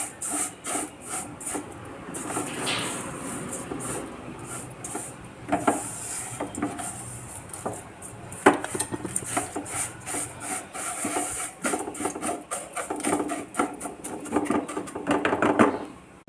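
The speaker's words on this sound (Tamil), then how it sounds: "சிம்மில் வச்சு கருகிராமல் நல்லா வறுத்துக்குருவோம்." Vermicelli dry-roasts in a pan over low heat for semiya kichadi, a continuous raspy scraping as it is stirred, with a soft hiss and rhythmic rubbing close by.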